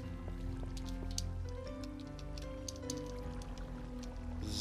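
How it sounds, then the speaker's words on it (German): Steady patter of rain in the video game Minecraft, a soft continuous hiss with scattered ticking drops, heard at low level beneath faint background tones. "Ach, Sab, du solltest den Regen ausmachen."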